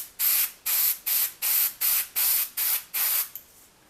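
Spray gun laying down a finish coat in eight even, close bursts of hissing spray, each cut off sharply before the next, with no talking.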